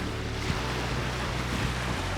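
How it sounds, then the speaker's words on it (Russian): Strong wind on the Sea of Japan coast near Vladivostok roars steadily and close, a dense broadband rush with a low rumble and no voices. "как жалко, что ветер сильный"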